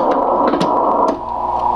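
A regenerative AM radio receiver is tuned right at the edge of regeneration and gives a steady band of hiss and static. Faint tonal squeals and crackles come and go on top of it.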